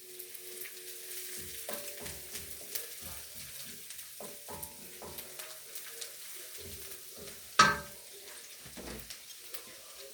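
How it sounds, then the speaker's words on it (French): A knob of butter melts and sizzles in a risotto pan where Morteau sausages are browning, a light frying hiss broken by scattered clicks, taps and one sharp clatter. "Là, je vais rajouter ma noisette de beurre."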